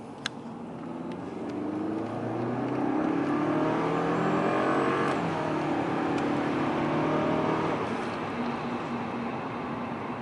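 A Subaru Legacy GT with a Cobb stage 1 tune pulls hard through second gear, its engine note rising steadily and loud from inside the car with no talk.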